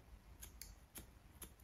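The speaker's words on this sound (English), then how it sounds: "thinning scissors" Thinning scissors snipping the hair of a Lhasa Apso x Maltese dog during grooming, four quick, crisp metallic snips at close range, quiet and irregularly spaced, with no talking.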